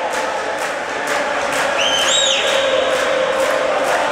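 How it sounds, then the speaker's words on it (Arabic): A crowd of spectators cheers for the team at a junior Tunisian Cup handball match between EM Mahdia and EBS Béni Khiar, a steady broad roar with a few rising whistle-like tones partway through. "كما قاعدين نسمع جانب من الجماهير اللي حاضرة هنا"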